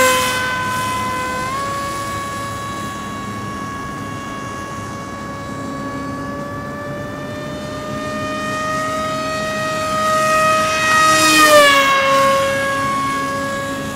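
Electric motor of a 37-inch Flinch FPV flying wing from Sweep Wings at a little under half throttle, a clear high harmonic whine that holds steady, then dips and swells briefly near the end, with no voices.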